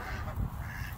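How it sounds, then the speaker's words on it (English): Poultry on a farm, a flock of black hybrid-breed chickens, clucking and calling in a steady low murmur of close fowl sounds with no talk. "Then chickens are still here."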